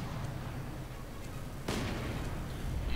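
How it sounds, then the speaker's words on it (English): Mortar and field gun fire in the World War II strategy game Company of Heroes 2, a steady rumble of battle with one sharp, loud blast about halfway through and further booms building near the end. "Mortar continues to blast away at the fascists."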